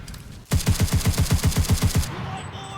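Rapid automatic gunfire from a weapon in the video game Enlisted, about a dozen loud, evenly spaced shots in one sustained burst lasting around a second and a half, with no talk over it.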